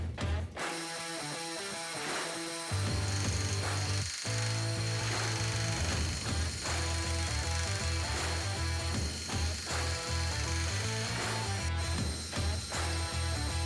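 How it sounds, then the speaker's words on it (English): A metal plate bolted to a lathe chuck is turned to make its outside diameter round, giving a steady mechanical whir with a rhythmic tonal hum and periodic ringing cutting noise, after a brief start-up. "it's easier to chuck it up in the lathe and to make the outside diameter round."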